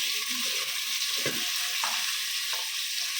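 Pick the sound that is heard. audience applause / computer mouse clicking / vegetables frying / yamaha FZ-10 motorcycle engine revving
vegetables frying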